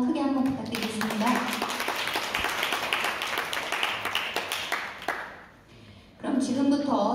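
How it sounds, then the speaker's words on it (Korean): A seated audience claps together at a Cheonan city council policy debate on abandoned animals. Brisk, dense clapping runs for about five seconds, then stops, and a voice speaks over a microphone. "여기에 대해서 박수 한번 크게 한번 부탁드리겠습니다."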